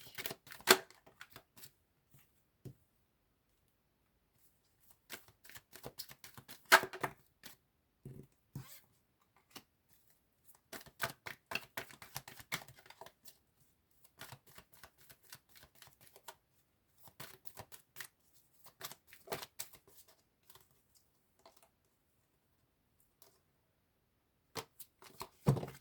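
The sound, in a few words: tarot cards being shuffled and drawn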